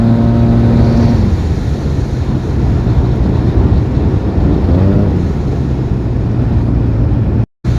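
Black-edition Yamaha TMAX 560 scooter fitted with Malossi parts and a Termignoni exhaust, its engine droning steadily and loudly under heavy wind rush while riding, with a brief cut near the end.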